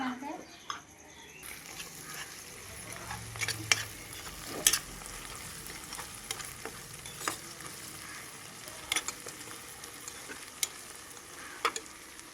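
Onions and green chillies sautéing in a pan give a soft, steady sizzle with scattered stirring clicks and scrapes throughout, while a voice speaks quietly in the background.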